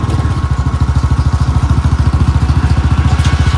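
Close, loud motorcycle engine held at a steady speed in third gear, a rapid even throbbing pulse running through the whole stretch with no voices.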